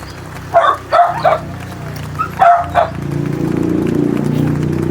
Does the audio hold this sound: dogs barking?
yes